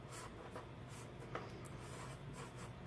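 Pen or pencil writing on paper, with faint, close scratchy strokes coming in short repeated bursts against a quiet room background.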